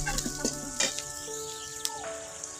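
Bottle gourd greens frying in a pan, with a soft, steady sizzle that sits under louder rooster crowing and hen clucking nearby.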